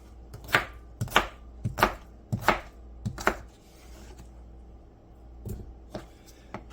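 Knife cutting potatoes on a board for home canning, about six sharp chops in a steady rhythm followed by a pause and a few scattered softer cuts, close and fairly loud.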